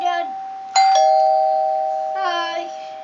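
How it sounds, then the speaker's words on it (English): A homemade doorbell rings with a clear, close electronic chime, a single bell tone that rings out and slowly decays, followed by a softer second tone, with a voice heard briefly. "We built a doorbell that rings once and twice."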